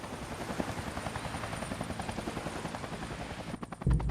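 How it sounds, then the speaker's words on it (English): A rescue helicopter's rotor thumps steadily in a rapid chop in a narrow ravine, fairly close, ending with a louder low rumble and gusts. "I had to go and had to wait for a second helicopter."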